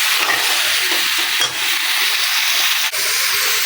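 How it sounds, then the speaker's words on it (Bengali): Vegetables tossed with spice mix in a hot pan give off a loud, steady sizzle and hiss, with a couple of brief scraping stirs breaking through close up. "সবজিটা ভালো করে আমি মশলার সাথে মিক্স করে নিচ্ছি, মিশিয়ে নিচ্ছি"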